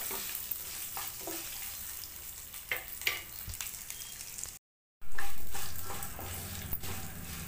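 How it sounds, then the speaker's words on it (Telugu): Ginger pieces sizzle in a hot pan as they are stirred, a soft crackling fry with occasional scraping taps, briefly cut off, then resuming as a louder, steadier sizzle. "పచ్చివాసన పోయే వరకు మనం అల్లం వేపుకుంటున్నాము."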